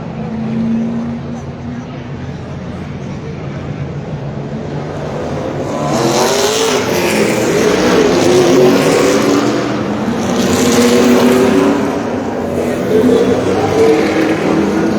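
Race cars roar around a short oval track after the pace car pulls off, their engines swelling from a distant hum into a loud, sustained group pass, with an announcer talking over the noise.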